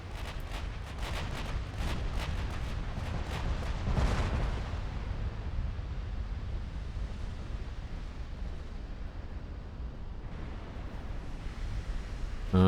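Naval guns in the warship game Ultimate Admiral Dreadnoughts fire in a rapid series of booming shots over the first few seconds, then fade into a low, continuous rumble of distant battle.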